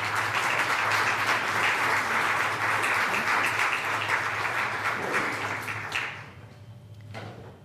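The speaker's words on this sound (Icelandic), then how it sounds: "við skulum klappa" An audience at a public residents' meeting in Húsavík claps for about six seconds, a dense, steady round of applause that then drops off sharply, leaving a few stray claps and quiet room noise.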